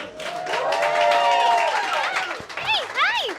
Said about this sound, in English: Give it up for Sandy Benton